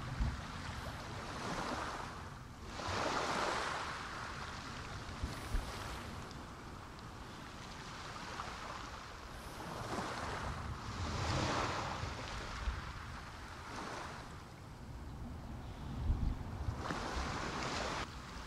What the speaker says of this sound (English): I'll leave the ocean for you guys.